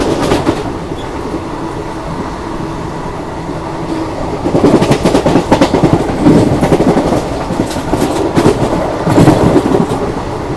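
Steady rumbling interior of a moving Coimbatore–Rajkot express train, continuous low roar with rhythmic clickety-clack of wheels growing louder and busier midway, no voices.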